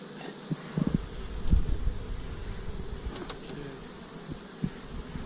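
Bees buzzing during a hive removal, a soft continuous drone with scattered louder passes and rustling close by, no talking.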